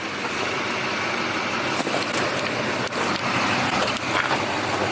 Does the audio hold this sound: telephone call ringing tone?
no